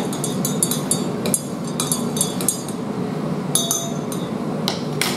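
A utensil stirring a 1% lime solution in a glass, giving rapid repeated clinks and taps against the glass in irregular bursts over a steady low background hum.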